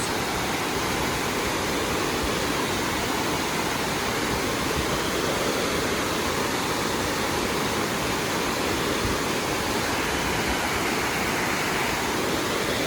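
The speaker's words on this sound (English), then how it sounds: "So as you can see, that water is really moving." Water rushes steadily at Lake Juniper in Cheraw State Park, a loud, continuous broadband roar close by with no break or voices.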